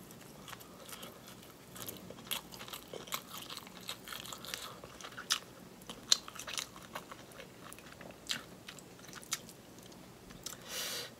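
Close, wet chewing and biting of Jamaican oxtail and shrimp cooked in oxtail gravy, with soft crunches and squishy smacks repeating steadily and quietly, no talking.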